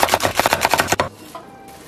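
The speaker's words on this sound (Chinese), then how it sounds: "然后咱们把尖椒给它切成丝儿" A knife chops green chili peppers into strips on a board, about a dozen quick close taps in steady rhythm for one second, then stopping, in a kitchen also preparing celery and braised beef hooves.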